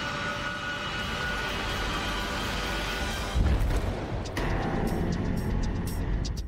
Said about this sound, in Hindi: रॉयल एयर फोर्स का C-17 ग्लोब मास्टर है।